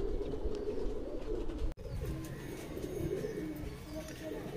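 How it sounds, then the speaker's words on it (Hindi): Imported Teddy pigeons coo softly in low, rounded calls, with a sharp knock partway through, nearby and fairly quiet. "पूरे के पूरे इम्पोर्टेड कबूतर है भाई गोविंद भाई के"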